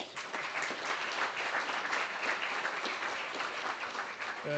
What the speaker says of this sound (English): Ladies and gentlemen, let's give another round of applause,